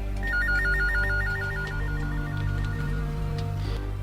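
A phone ringtone plays a steady, warbling two-tone electronic trill that repeats rapidly over a low background hum, with no voices.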